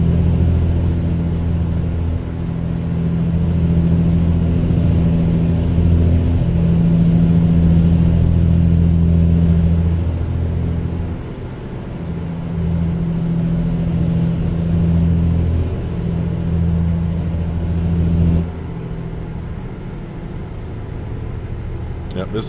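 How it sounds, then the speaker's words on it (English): A truck's engine drones steadily in American Truck Simulator, a low, loud hum that swells and eases in long stretches as the load changes, with a high whine running above it throughout. "but the engine just sounds a little bit louder than normal."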